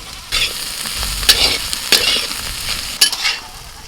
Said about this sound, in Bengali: কপি আলু ভাজা হয়ে গেছে তো তুলে নিচ্ছি